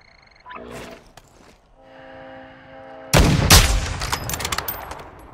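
Bursts of gunfire in a multiplayer shooter game's stronghold push, loud dense shots in the second half after a quieter stretch, with no talk over them.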